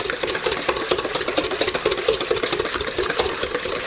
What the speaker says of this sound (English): with this little mixture, we're just going to whisk that together